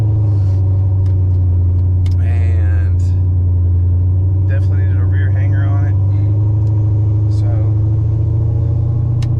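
A Pontiac GTO with a Borla exhaust idles loudly nearby, a deep steady rumble throughout, with someone talking over it.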